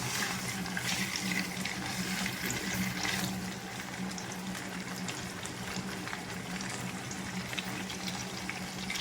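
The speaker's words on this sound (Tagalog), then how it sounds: "almost done na po yung ating pinipritong isda" Tuna steak frying in butter in a pan over low heat, a steady soft sizzle and crackle running throughout, fairly quiet and close, with a slight dip partway through.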